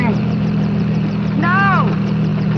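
A helicopter drones steadily with a low, continuous rotor hum, loud and close throughout, with a brief rising-and-falling whine near the middle.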